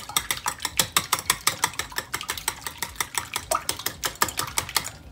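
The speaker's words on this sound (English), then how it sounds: "What we're gonna do is we're gonna mix our eggs in with the whisk." A wire whisk beats eggs in a bowl for egg wash, a fast, even train of crisp clicks and taps repeating several times a second, close and continuous.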